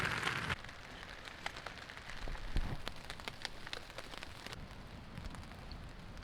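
Steady rain patters on a camp tarp at a bay campsite, a dense soft hiss broken by scattered sharper drops, close and fairly quiet.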